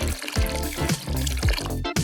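Old, dirty bathwater splashes and sloshes in repeated bursts, close and fairly loud, with trickling and pouring sounds between the splashes.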